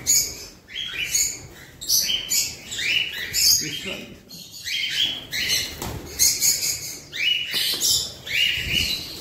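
Small birds chirping inside a home aviary, bursts of bright repeated tweets and calls from several birds close by, with brief rustling between them.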